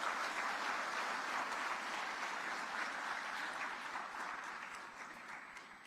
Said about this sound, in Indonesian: Kita beri tepuk tangan untuk petugas dapur kita.